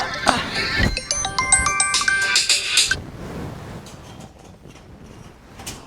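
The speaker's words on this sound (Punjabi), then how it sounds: "ਫੋਨ ਆ ਗਿਆ" A mobile phone rings with an electronic melody of repeated bright tones, close and fairly loud. The ringing stops after about three seconds and quiet room noise follows.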